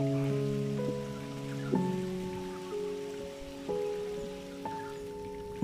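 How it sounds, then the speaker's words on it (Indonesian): Light drizzle falls at a rice paddy, a soft, steady patter spread evenly through the background while sustained tonal hums layer over it, with no talking. "Hujan rintik-rintik."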